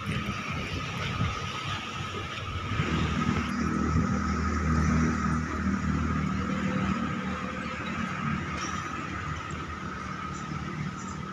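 Road traffic runs along a main road beside a wholesale grocery store in Karawang, Indonesia: a continuous, fairly close rumble of passing vehicles with a faint high squeal, and no speech.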